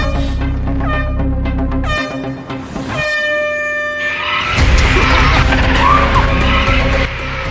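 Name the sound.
Tesla Cybertruck racing a Rivian in a played video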